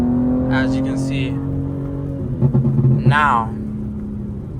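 A BMW M4 Competition (G82) engine drones steadily under close, continuous talk from inside the car, with a brief surge of revving midway.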